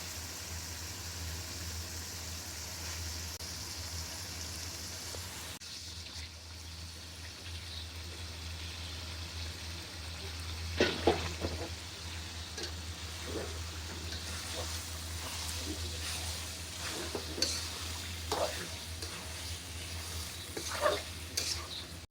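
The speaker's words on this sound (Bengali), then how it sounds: "খালি আমি ভাজা ভাজা করবো এখন" Beef liver for bhuna fries in spiced oil, giving a soft, steady sizzle and hiss. A spoon stirs and scrapes the pan now and then, with a few louder clunks near the end.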